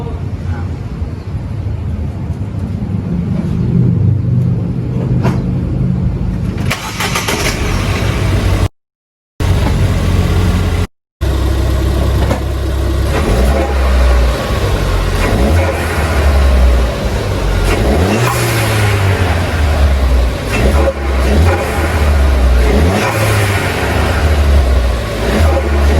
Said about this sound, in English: when I go on the throttle, you can hear like the air a little bit earlier than it used to with just the intake